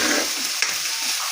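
Egg bhurji sizzling in a hot pan while being stirred, a bright steady frying hiss with a scrape of the spoon midway, close and without talk.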